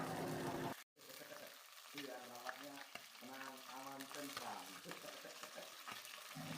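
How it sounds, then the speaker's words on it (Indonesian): Cleaned, scored fish fries in hot oil with a continuous crackling sizzle, loud at first and then lower beneath a person speaking over the cooking. "Setelah dicuci bersih, disayat, mari kita goreng."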